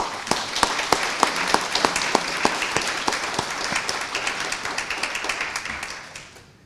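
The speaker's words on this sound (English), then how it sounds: "Let's express our appreciation one more time with an applause." An audience at a university community health lecture claps together, sharp individual claps standing out at first, then blending into a thinner patter that fades away.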